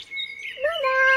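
Small birds chirping and singing outdoors, a few high tweeting calls rising over one another at moderate distance, fairly clear with no talk.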